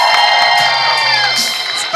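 A theatre audience at a children's camp performance of the musical Flying Ship cheers loudly from the hall, with whoops and children's shouts blending into a dense, continuous roar throughout.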